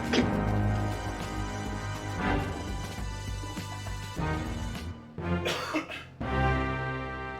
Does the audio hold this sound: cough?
yes